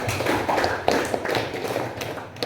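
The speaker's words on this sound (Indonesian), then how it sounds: "Aplaus buat Denti dan" A classroom of students claps together in a steady, dense round of applause that carries on for a couple of seconds, close and fairly loud.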